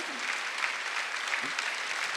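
A congregation claps together during a Sunday church worship service, a steady wash of applause that stays even in level for a couple of seconds.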